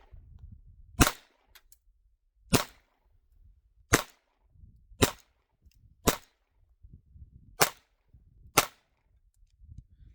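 Seven sharp gunshots from a Ruger Mark IV 22/45 .22 pistol fired at a can outdoors, spaced roughly one to one and a half seconds apart, loud and crisp with faint low rumble between shots.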